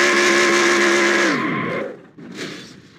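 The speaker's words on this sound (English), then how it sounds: "definitely the best burnout I've done so far in the season for both series too" A stock car in the NR2003 racing game, at Milwaukee, does a burnout: a loud, sustained tire squeal with high engine revs that drops in pitch and fades, followed by a short second squeal, with no talking.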